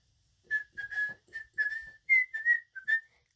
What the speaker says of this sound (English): I'm just kind of whistling the Mickey Mouse theme song.